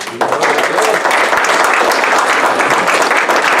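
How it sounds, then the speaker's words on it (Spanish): A church congregation claps together, dense and fairly loud, starting abruptly and continuing as a steady roar of applause throughout. "Dale el aplauso a Jesús."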